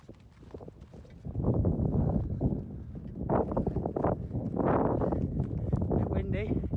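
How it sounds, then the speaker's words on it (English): Gusty wind buffets the microphone outdoors at night by a river and waterfall, low roaring bursts that swell and ease, with a person talking. "Bit windy."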